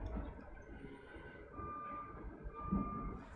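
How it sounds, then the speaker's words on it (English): A garbage truck on trash day gives off faint, distant reversing beeps, a thin repeating tone heard over low engine rumble and outdoor background noise. "I think the first truck is here"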